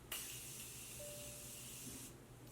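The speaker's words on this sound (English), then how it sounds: "So I'm going to use this Morphe setting spray, and it's a nice mist." Morphe setting spray mists onto a face in one long, steady hiss lasting about two seconds, close and fairly soft, with a small click at the end.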